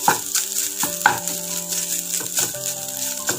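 Raw jackfruit and coconut sautéed in a pan for a Palakkad-style stir fry, a continuous close sizzle punctuated by regular scraping and clinking stirs of a spoon against the pan.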